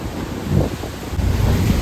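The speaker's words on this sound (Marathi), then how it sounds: "लाटा तर जबरदस्त येत लाटा" Strong sea waves surging around a boat out on deep-sea fishing, a loud churning wash mixed with gusting wind noise on the microphone.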